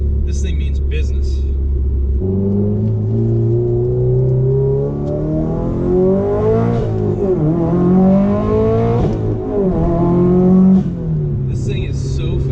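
A Subaru STI engine run hard on a chassis dyno, a loud, close roar that climbs steadily in pitch through the gears with brief dips at each shift, then drops back to a lower rumble, with excited voices over it.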